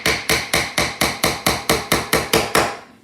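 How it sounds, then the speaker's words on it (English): Twelve evenly spaced hammer blows strike the side of a wooden cocoa bar, each a sharp loud knock with a brief ring, in a steady rhythm lasting about three seconds. "And that way you can finish hammering that side, okay?"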